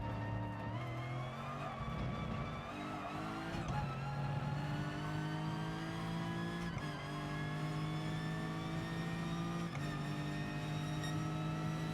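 Race car lapping a circuit in GT Sport, the engine a loud, continuous tonal drone climbing in pitch through the gears, with brief dips at shifts around a few seconds apart, heard alone without talk.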